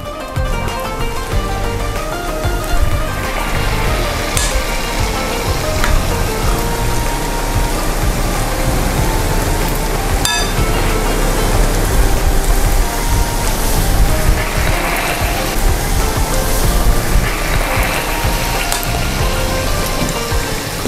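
Bakwan vegetable fritters sizzle in hot frying oil, a loud, dense, continuous crackle and hiss with scattered pops, close up and with no talk.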